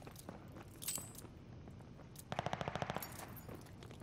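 Gunfire in Call of Duty: Vanguard ranked play, a short rapid burst of automatic shots in the second half after scattered quieter clicks and shuffles, with no talking.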